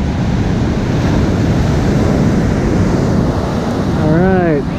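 Ocean waves break and wash steadily at Half Moon Bay, a loud broadband roar with wind buffeting the microphone, and a brief voice comes in near the end.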